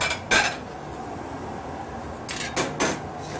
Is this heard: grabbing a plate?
yes